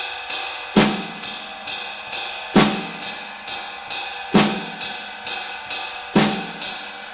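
A drum kit plays a steady repeating funk ostinato, ringing ride cymbal and hi-hat strokes over crisp snare hits on beat 3, close and fairly loud.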